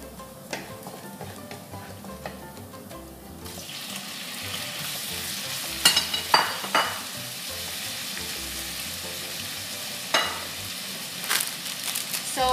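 Shrimp sizzle and crackle in a hot pan with garlic, growing louder after a few seconds, with occasional clatters of utensils and no talking.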